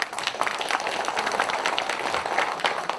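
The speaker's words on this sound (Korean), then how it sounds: "왜 박수 치는 겁니까?" An audience at a lawmaker's 2023 legislative report meeting claps, a fairly quiet, dense patter of many hands that continues steadily for a few seconds without speech.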